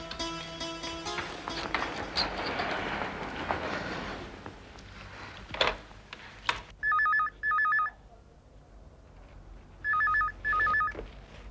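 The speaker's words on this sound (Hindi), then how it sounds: "तुम्हारे लिए फोन है" A telephone rings in a household scene from a Hindi TV serial, with two pairs of loud electronic ring bursts in the latter half, following a stretch of background music and ambience.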